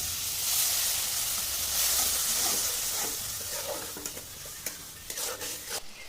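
Ground cumin, turmeric and a splash of water stirred in a pan for a quick Bengali egg korma, a broad steady sizzle that eases off as a spoon scrapes and taps the pan in several sharp strokes, with no talking.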